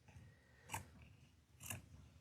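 Fabric scissors snipping through fabric, two distinct crisp cuts about a second apart, each a sharp metallic shearing snap, quiet and close with faint background between.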